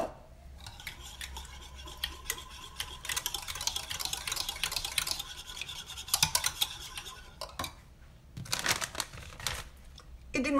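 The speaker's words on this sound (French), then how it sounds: "On mélange, on mélange les œufs" Beaten eggs and milk are whisked in a bowl with a utensil, giving busy scraping and tapping against the bowl. The stirring comes in uneven bursts and stays fairly close.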